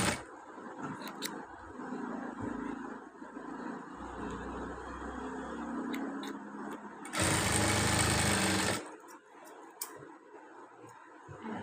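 A sewing machine runs through churidar fabric in one loud, continuous burst of about one and a half seconds, preceded and followed by soft handling and rustling sounds.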